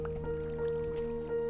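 Flowing water in the Minecraft video game, a soft continuous trickling and dripping with small splashy squishes, steady and fairly close under a sustained tonal hum.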